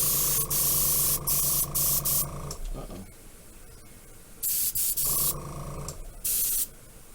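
An airbrush or spray can mists lighter gray paint onto the hull of a Monogram Battlestar Galactica Cylon Basestar model kit, sounding as a series of loud hissing bursts broken by quiet gaps.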